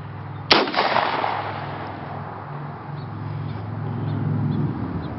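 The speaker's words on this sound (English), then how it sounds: "This is a 12 gauge Browning shotgun." A single loud 12 gauge Browning shotgun blast goes off during a rabbit hunt on a Bucks County, PA farm, a sharp crack followed by a long rolling echo and outdoor ambience.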